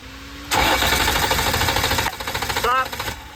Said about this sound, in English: Thankfully, the car is still running fine